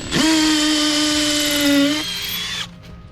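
A PUMA PM-245BL 20 V cordless drill cuts into a concrete pillar, one short loud whine held close for roughly two seconds before its pitch drops away and it winds down.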